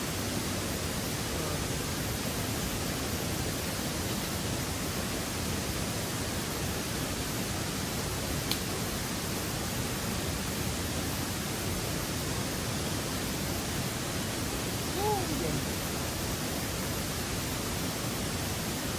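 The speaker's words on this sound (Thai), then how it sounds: "โอ้น้ำตกเยอะมากเลย" A powerful waterfall roars in a dense, even, unbroken wash of noise for the whole stretch, heard up close with no other sounds standing out.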